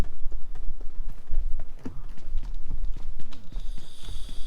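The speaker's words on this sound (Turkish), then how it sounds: "Sanki ayak sesi alıyorum diyeceğim de bizim ekibin ayak sesiymiş" Quick, irregular footsteps from teammates in the mobile battle-royale game PUBG Mobile on the Nusa map, close and fairly loud, with a bright steady hiss joining near the end.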